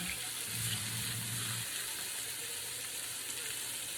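Beef steak for bistec borracho sizzles steadily in a hot pan as it is flipped, a continuous close frying hiss with no voices.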